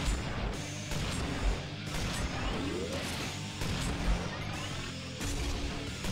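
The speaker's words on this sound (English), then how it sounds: "Explosions and effects in this game are pretty cool" Repeated crashing explosions in the retro-style side-scrolling game Iji, dense overlapping bursts and smashes over busy game noise, fairly loud throughout.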